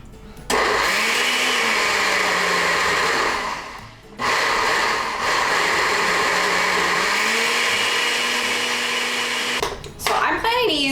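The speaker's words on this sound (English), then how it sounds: "we're gonna blitz it up until it's super smooth" A blender whirs continuously as it purees a tomato onion masala paste, loud and close. It cuts out briefly around the middle, then spins up again and runs steadily until a short rattle at the end.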